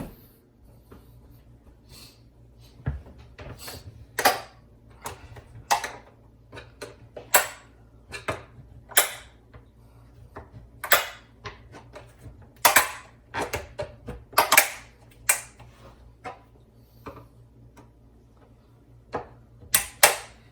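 Plastic tabs on a kitchen appliance panel in an RV are wedged and pried loose, giving irregular, sharp close-up snaps and clicks separated by short quiet gaps.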